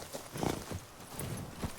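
Horse hooves in the video game Witcher: Blood and Wine, a soft, quick clip-clop of a few steps at moderate distance over a faint background.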